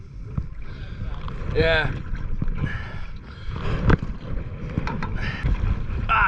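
A canoe paddled on a lake during a trip in Sweden, with paddle strokes splashing and dripping in irregular rhythm beside wind noise, while people talk and grunt close by.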